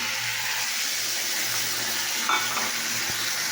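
Ginger garlic paste, mustard and green chilli stir-fried in a pan, a steady close sizzle with faint scraping of stirring and no talk.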